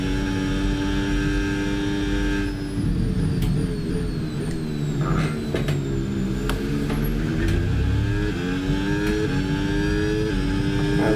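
A Formula 1 car from the F1 26 racing game, on the Austria circuit, screams through gear changes, its engine note climbing and dropping in rising sweeps with sharp upshift steps, loud and close, without talk.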